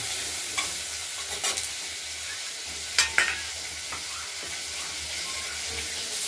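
Tomato added to hot oil in a home kitchen sizzles with a steady frying hiss, broken by a few scraping stirs and clatters, fairly quiet and close, with no voices.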